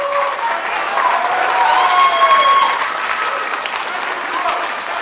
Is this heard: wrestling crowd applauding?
yes